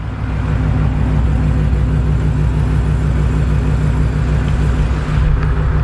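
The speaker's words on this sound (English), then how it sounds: "this is the factory exhaust, right? And it sounds awesome." A Hellcat's factory exhaust rumbles steadily at idle, a deep continuous throaty drone close by with no talking.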